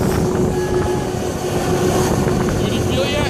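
Airliner taking off at St. Martin, a loud steady engine roar filling the whole clip with a constant hum and broad rumble, heard from inside the cabin.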